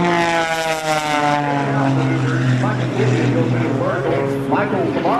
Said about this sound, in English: they're heading toward each other once again. Coming back for the show center now, Michael.